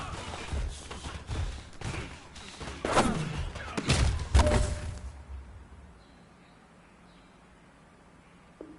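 A grenade blast in a PS4 shooter game, with loud broadband booms and thuds clustered over the first five seconds, then a quieter tail of faint ambience.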